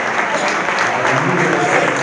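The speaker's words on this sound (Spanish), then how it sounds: "Y se sienta el número 6, fortísimo aplauso." A stadium crowd applauds strongly for a Barça substitution, a dense, steady roar of clapping filling the whole moment without a break.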